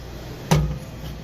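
Exterior compartment door on a Thor Vegas 25.2 RV swinging shut with a single solid thud, close and brief over faint background hiss.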